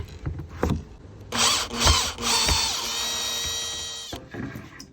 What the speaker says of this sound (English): First, I'm going to take these screws out.